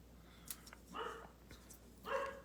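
A dog barks indoors somewhere off in another room, giving two faint, muffled barks about a second apart over a quiet background hum.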